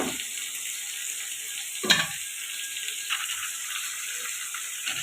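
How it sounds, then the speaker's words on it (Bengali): Potato pieces frying in hot oil with cumin seeds, a steady close sizzle with a few louder stirring clatters along the way. "আলু জিরে ফোড়ন দিয়ে আলুটা ভেজে নিচ্ছি"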